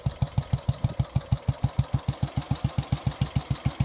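A late-1941 Ariel WNG wartime military motorcycle engine runs at a steady idle, producing a loud, even thumping beat of regular low pulses, close by, with no voices.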